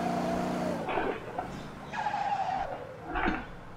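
Tires squeal in bursts as a car drifts in the video game Motor Town, short screeching skids over a close engine hum, no voices.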